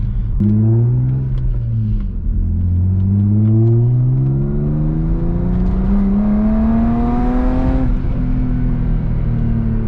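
A BMW E36 M3 engine pulls hard from inside the cabin, its loud droning exhaust note climbing steadily through the revs, with a brief dip at a gear change and a shift near the end.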